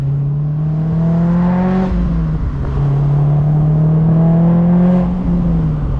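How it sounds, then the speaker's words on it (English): A supercharged 2006 Honda S2000 AP2 making about 450 wheel horsepower, heard from inside on a wet back road. The engine drones and climbs steadily, dips briefly as it shifts, then pulls again in a smooth rising whine. "we're gonna go on some back road drives in the Supercharged S2000"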